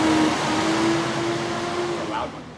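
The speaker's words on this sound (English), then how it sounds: "we got a big truck going by." A big, loud truck drives past a restoration garage, its broad engine rumble and a steady droning tone holding strong for a couple of seconds before easing slightly, close by.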